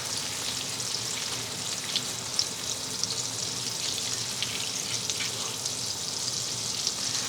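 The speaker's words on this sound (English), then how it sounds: "about 3 tablespoons, about 40 grams of butter and melt it" About 40 grams of butter melts in a pan with a steady, soft sizzle and faint crackling pops throughout, with no voices.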